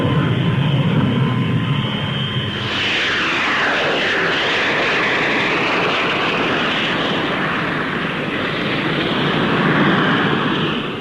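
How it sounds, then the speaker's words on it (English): A Folland Gnat lightweight supersonic fighter, a development of the Midge, takes off at Farnborough in the 1950s, its jet roar swelling with a sweeping, rising whine as it passes close by. "Now Squadron Leader Tennant prepares to take up the Folland Nat-1"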